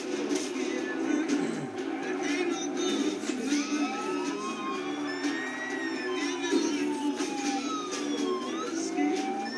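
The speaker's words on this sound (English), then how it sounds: "sirens are all fucked up." Emergency vehicle sirens wail in a GTA video game. Several rising and falling tones overlap above a dense background of crowd and traffic noise, and the mix stays steady and busy throughout.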